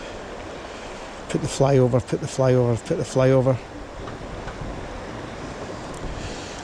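Choppy water of the River Váh splashing and lapping steadily with wind rushing across the microphone, while someone talks briefly over it.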